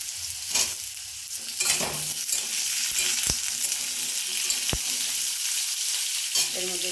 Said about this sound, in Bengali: আলু আর পটল একসাথে ভেজে দিচ্ছি।